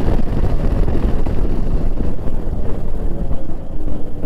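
Heavy wind buffeting the microphone on a motorcycle ride, a dense continuous low roar with steady engine rumble beneath, no pauses.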